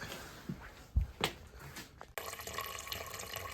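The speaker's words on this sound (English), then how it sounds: "There's the gas draining." Gasoline draining from a snowmobile fuel tank into an ice cream bucket, a quiet steady liquid trickle and pour with a few faint knocks and clunks, growing into a continuous fuller splashing stream toward the end.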